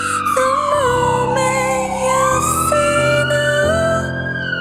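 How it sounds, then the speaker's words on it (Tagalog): An ambulance siren wailing loudly and close, its pitch sweeping up and down in long glides with a second warbling tone layered in, continuous over steady engine and traffic noise. "Agad na dumating ang ambulansya."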